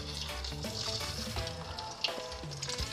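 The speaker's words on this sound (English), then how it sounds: "we're sticking to the A and G style, which is deep frying it" Pork deep frying in hot oil, a steady close sizzle and crackle of bubbling fat that runs throughout with a few sharper pops.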